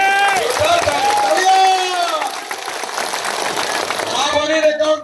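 Crowd at a political rally in Assam applauding and cheering, a broad steady wash of clapping under a loud, amplified voice talking over it.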